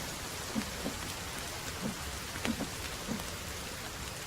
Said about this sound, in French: il pleut, on aura de l'eau